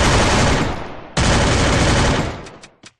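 Continuous loud automatic gunfire in a Free Fire/PUBG-style cartoon animation, a dense rattling burst that pauses briefly, resumes, then tails off into a few final separated shots.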